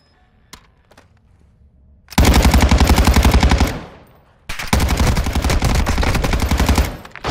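Fully automatic fire from a buffed Tempus Razorback assault rifle in Warzone 2, two long loud rapid bursts separated by a brief pause, close and sharp.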